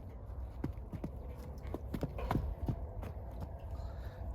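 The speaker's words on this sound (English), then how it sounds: "What a beautiful horse." A buckskin horse's hooves clip-clop in an uneven series of close, sharp knocks outdoors, fairly quiet and without talk.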